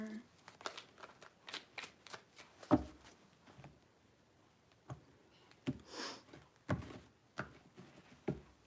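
A deck of tarot cards riffles and snaps in several quick bursts, close by, with brief pauses between shuffles.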